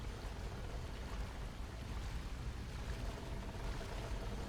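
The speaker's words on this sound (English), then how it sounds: "By turning the valve, this water wheel will begin to raise." A water wheel in Skyrim, modded, starts to raise after a valve is turned, giving a steady broadband rush of churning, splashing water that holds even and fairly loud throughout.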